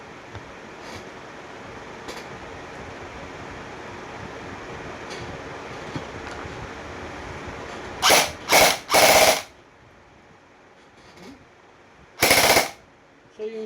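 A Poseidon Cerberus airsoft rifle firing full auto indoors, sounding as several short loud mechanical bursts in quick succession, then a pause and one more burst, over a quiet room hum.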